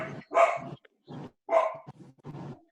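A dog barks in several loud, close bursts with short gaps, coming through an online class call and heard alone without talk.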